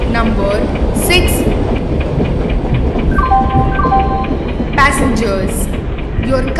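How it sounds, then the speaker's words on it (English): A goods express train arrives, rumbling loudly and steadily past a station platform, with clattering wheels and a few high squeals, while people talk over the noise. "train number 1201 goods express is arriving at platform number 6"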